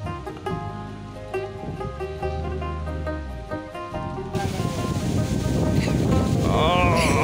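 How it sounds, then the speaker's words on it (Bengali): Strong wind from a Kalbaishakhi storm in rural Bangladesh roars loudly and buffets the microphone in the second half, following an opening stretch of music. "প্রচন্ড বাতাস আর কি, বিদ্যুৎ চমকাইতেছে।"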